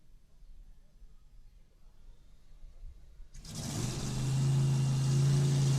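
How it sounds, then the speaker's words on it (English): Nitro-burning fuel altered drag car fired up at a drag racing event: after a few seconds of quiet background noise the engine bursts into a loud, steady, rumbling idle that holds to the end. "they just got the clearance to fire this car"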